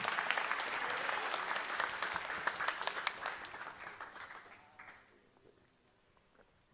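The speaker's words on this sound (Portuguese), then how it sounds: "Você pode aplaudir ao Senhor por isso?" A church congregation applauds during a sermon, a full burst of many hands clapping that holds for several seconds, then thins to scattered claps and fades out.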